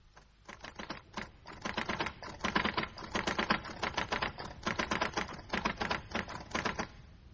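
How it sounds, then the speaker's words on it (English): A typewriter clatters in quick bursts of sharp, close keystrokes, the rapid clicks bunching into runs separated by brief pauses, loud and alone with no talking over them. "I couldn't possibly finish typing this engrossment tonight"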